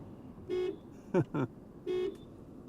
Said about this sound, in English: this sounds like a clown car horn. Beep, beep.